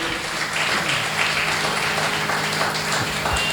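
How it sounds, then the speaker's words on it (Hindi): A crowd at a Srimad Bhagavatam recitation gathering claps in a sustained, even burst of applause to welcome the arrival of Lord Rukmini Vallabha, loud and continuous throughout. "आप लोग तालियों गड़गड़ाहट के साथ उनका स्वागत करें।"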